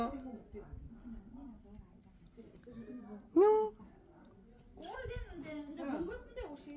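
A single clear meow from a rural cat rises near the middle, surrounded by people talking quietly.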